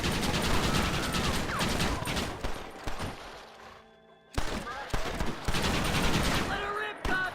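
Gunfire rattles through a Red Dead Redemption shootout, dense overlapping shots and bursts that keep up almost without a break, dropping away briefly toward the middle before the volleys come back loud. Voices shout here and there.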